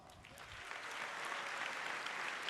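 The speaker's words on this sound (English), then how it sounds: "Let's give them a round of applause." A crowd applauds at the NVIDIA GTC 2018 keynote, producing a soft, dense wash of clapping that swells slightly and stays even, heard faintly as if from a distance.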